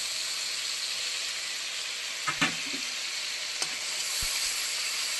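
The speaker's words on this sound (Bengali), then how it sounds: "মশলাটা কষানো হচ্ছে" Spice masala with tomato being sautéed in a pan while cooking banana flower, a steady, hissing sizzle throughout with a couple of soft utensil knocks partway through.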